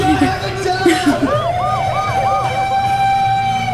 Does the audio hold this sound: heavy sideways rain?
no